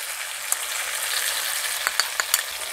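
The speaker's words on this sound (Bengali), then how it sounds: "সবজি আমার ভাজা হয়ে গেছে, এবার আমি এর মধ্যে পোস্ত বাটা দিয়ে দেব।" Poppy seed paste goes into vegetables frying in a pan for a Bengali sukto, giving a steady, dense sizzle with a few sharp crackles and pops toward the end, close and fairly loud.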